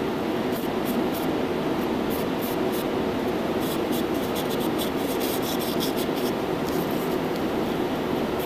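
Continuous gritty rubbing of sandpaper against an automatic transmission valve, a steady abrasive scrape at close range with quick, even strokes and no talking.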